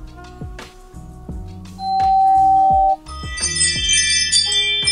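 Ring Chime motion-alert tone from a home doorbell chime unit: a series of bright chiming notes with one sustained tone, rising into a dense shimmering jingle at the end, clear and close with no talking.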